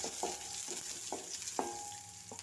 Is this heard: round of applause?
no